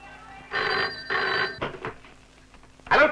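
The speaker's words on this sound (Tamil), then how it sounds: "நீ மறுபடியும் துரைக்கு போன் பண்ணு" An old-style telephone rings in two long bursts with a steady electric bell tone, fairly loud and close, followed by brief scraping and a short spoken word at the end.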